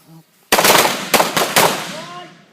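Loud, close gunshots ring out in a quick burst of about four or five cracks with trailing echo during a self-defense shooting drill on a range, after a brief faint voice.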